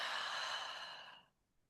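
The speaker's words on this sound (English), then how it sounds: "and then breathing out through your mouth," One deep breath out through the mouth, a soft, airy exhale that is close and clear, lasts just over a second and then trails off into quiet.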